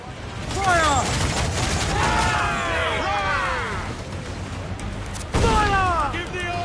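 Ship cannons fire broadside volleys during a naval battle in Assassin's Creed 4 Black Flag, with loud, rumbling booms and gunfire continuing under shouting voices, then a fresh burst near the end.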